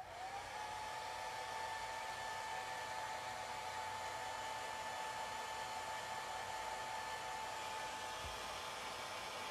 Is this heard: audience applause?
no